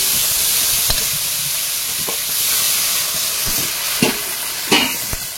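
Potatoes frying in a pan with cumin and coriander powder give a steady loud sizzle and hiss, punctuated by several scraping knocks of a spatula as they are stirred, with no talking.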